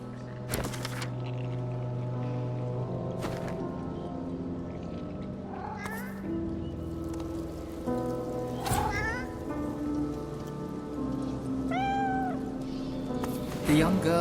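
A skeletal cat in the fantasy video game Divinity Original Sin II gives several distinct meows, some rising and falling, over an ambient game soundscape of low drones and soft rain-like noise; a voice narrates in places.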